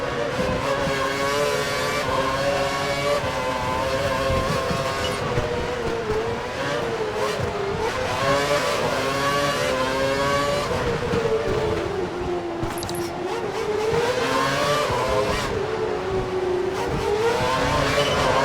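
A Formula One race car engine screaming at full revs in the F1 2012 racing video game, a loud, continuous high-pitched whine with rising and falling gear-change sweeps for the whole stretch.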